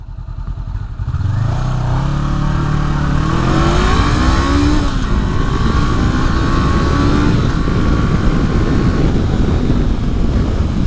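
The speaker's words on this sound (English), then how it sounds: "So let's give it a full throttle run here." A 2018 Honda CB500X motorcycle accelerates at full throttle, its engine pitch climbing loud and close through several gear changes with steady wind noise, and no talking.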